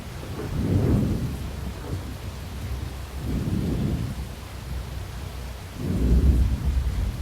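Rolling thunder from close lightning strikes near a tornado, three deep booming rumbles a few seconds apart over steady rain, loud and near, with no voices.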